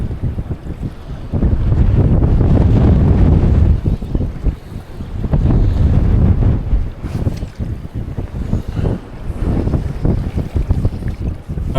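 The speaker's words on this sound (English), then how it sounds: "the wind's coming straight down the reservoir" Strong wind gusts across an open reservoir, buffeting the microphone with loud, rumbling roars that rise and fall in surges, with water lapping faintly beneath.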